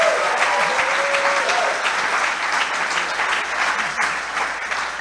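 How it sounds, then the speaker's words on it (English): Investor summit audience on the sand breaks into applause, a broad wash of clapping from many hands, loud and continuous, with a faint voice early on. "If you've sat with a really cool group, let us know by applause."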